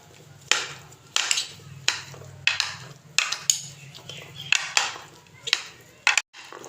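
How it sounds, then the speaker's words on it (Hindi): Aloo chana chaat being mixed with spices in a bowl: a spoon knocks and scrapes against the bowl in a steady rhythm of sharp clinks, about a dozen strokes, close up with a faint low hum beneath. "हमने अच्छे से मिक्स कर लेना है।"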